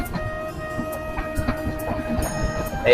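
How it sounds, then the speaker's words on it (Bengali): A passenger train rolls into Singapore Road Junction station in India without stopping, with a steady rumble, rhythmic wheel clicks and scattered metallic clanks close by. "সিঙ্গাপুর যাইনি তবে সিঙ্গাপুর রোড জংশন স্টেশনে আমাদের ট্রেন ঢুকছে এখন"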